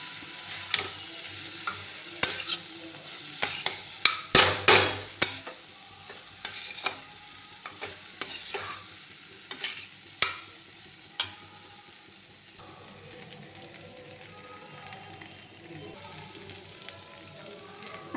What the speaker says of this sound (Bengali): এবার এটা খুব সুন্দর করে নাড়িয়ে নেব।